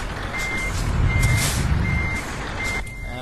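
A truck's reversing alarm in Euro Truck Simulator 2 beeps in a steady, evenly spaced series over a loud, continuous engine rumble, with no voices.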